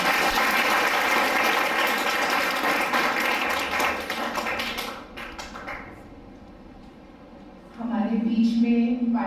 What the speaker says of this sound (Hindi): भाई जी के लिए जोरदार तालियां।